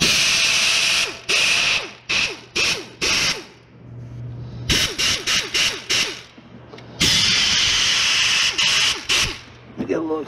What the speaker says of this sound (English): Right now we're just running the bolts in